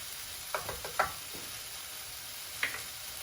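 Spices and tomato cook in a pan for red lentil dahl, giving a soft, quiet sizzle with a few light scraping stirs and small knocks, and no voices.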